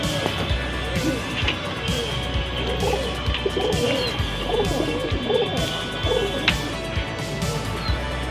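Pigeons coo softly in soft repeated phrases, mixed with wing flutters and occasional knocks from the birds handled in a loft, over a steady background hum.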